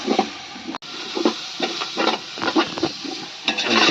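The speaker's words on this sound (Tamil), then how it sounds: "இஞ்சி போட்டு லைட்டாக வதக்குவோம்" Ginger sautéed lightly in a pan for veg biryani, giving a soft, steady sizzle with repeated scraping stirs of a spoon near the mic.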